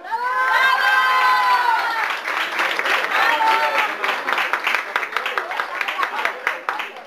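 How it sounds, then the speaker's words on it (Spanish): Children and adults at a party clown comedy show cheer, shout and clap for the first contestant, a loud continuous crowd roar with high excited voices and steady clapping throughout. "aplausos al competidor número uno"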